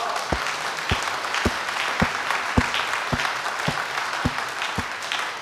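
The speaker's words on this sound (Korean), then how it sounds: "우리 하나님께 영광의 박수 하십시다" A church congregation claps in unison after a dawn worship sermon, a regular rhythm of about ten sharp, evenly spaced claps over a low crowd murmur.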